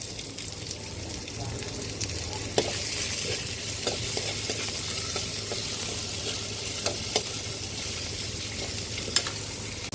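Garlic and onion frying in a pan, with a steady broad sizzle throughout and occasional light clicks of stirring or utensil contact, close by.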